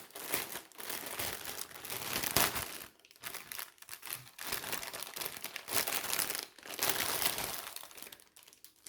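Plastic packaging crinkles and rustles nearby as spools of thread in various colours are unwrapped, in irregular bursts of crackling with brief pauses.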